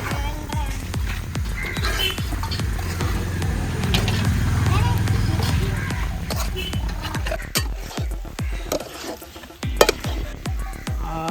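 Pork fries in a pan with ground masala as it is stirred, a steady close sizzle broken by clinks of the spoon against the pan, with people talking throughout.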